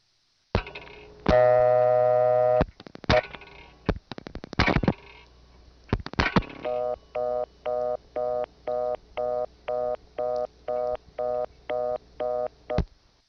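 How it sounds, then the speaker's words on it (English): A 1976 step-by-step telephone exchange at New Smithville answers with a dial tone, then dialing clicks and a steady run of evenly spaced tone bursts repeating on and off, clear and close on the line. "Let's call that New Smithville dial tone again."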